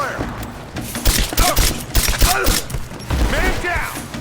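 Rapid bursts of gunfire and shots crack through a combat scene in the video game Rise of the Tomb Raider, repeated loud volleys with shouted voices in between.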